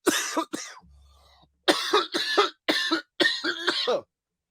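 Repeated sharp coughs close up, a quick pair, a short pause, then a run of four or five rough bursts in fast succession.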